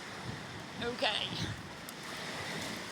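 Waves and wind on a beach, a soft steady surf wash with gusts buffeting the microphone, and a person speaking briefly over it partway through.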